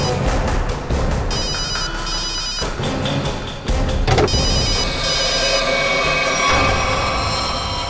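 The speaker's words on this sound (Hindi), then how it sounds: "रिंग तो बज रही है।" A mobile phone rings repeatedly through a dense, noisy background in a CID crime drama search scene, its trilling tone loud and persistent.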